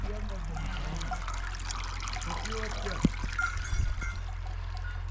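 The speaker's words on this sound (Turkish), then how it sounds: "Suyu açtık arkadaşlar dolsun diye." Water runs steadily from a tap, a continuous trickling pour filling a container, with faint voices and a small clunk in the background.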